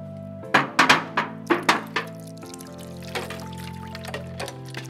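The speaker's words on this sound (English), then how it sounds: "you're gonna take this ice water and pour it over" Ice water is poured over a sealed can during a can-crushing experiment, giving a run of loud close thunks and clinks, then a softer trickling and a few lighter knocks as the can collapses, with no talking.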